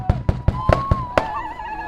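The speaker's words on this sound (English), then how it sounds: "The song of the American Indian movement mingled with eruptions of celebratory gunfire" Celebratory gunfire erupts at Wounded Knee during an American Indian Movement gathering: a rapid series of about six sharp, loud shots at even intervals, followed by a fading echo and a faint sustained tone.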